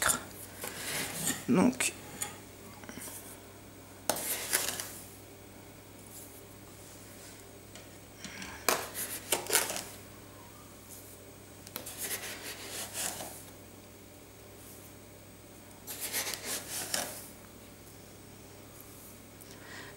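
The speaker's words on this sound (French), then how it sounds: "je mélange tout de suite aussi l'œuf et la crème pour que ça reprenne une belle couleur blanche" A whisk beats egg, cream and sugar together in a bowl for a blueberry tart, giving repeated bursts of scraping, clinking strokes separated by quieter pauses, with a brief spoken word.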